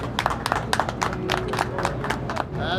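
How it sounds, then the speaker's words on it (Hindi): An audience applauds an honoree at a birthday celebration event, with distinct sharp claps in an uneven loose rhythm from a modest crowd, fairly close and on their own. "जोरदार तालियों से उनका स्वागत करें।"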